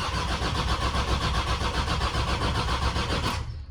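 Land Rover Defender TD5 diesel engine cranking over without catching, a steady loud rhythmic starter-motor churn that runs continuously, then cuts off abruptly near the end.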